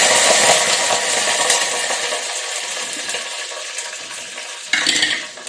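Curry leaves crackle and sizzle in hot oil for a coconut-milk fish curry, a loud steady frying hiss close to the pan, with a fresh burst of spattering near the end.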